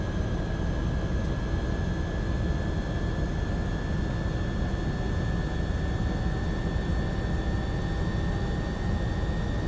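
MD-11 jet engine starting up in the X-Plane 11 flight simulator, a steady dense roar with a constant high whine running throughout, loud and unbroken.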